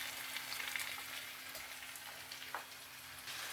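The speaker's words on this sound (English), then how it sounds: "So, saute everything. Saute up everything, guys." Tinned mackerel and vegetables sauteing in a frying pan, a steady close sizzle and crackle running throughout with no talking.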